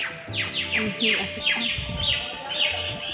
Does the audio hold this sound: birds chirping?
yes